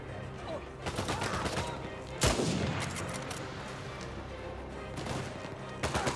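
Gunfire in the video game Uncharted 4, a steady fusillade of rapid shots with one loud sharp blast near the middle and bursts again at the end, close and dense.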